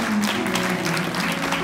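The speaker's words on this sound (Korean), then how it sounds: "여러분 두 사람에게 따뜻한 박수를 부탁드리겠습니다" A wedding crowd claps warmly for the couple's entrance at a ceremony in Gyeongnam, with the dense, steady applause running over music playing in the background.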